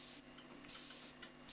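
An airbrush with the trigger pressed and the nozzle closed releases only air: three sharp, loud bursts of hiss separated by brief pauses, close up and with no voices.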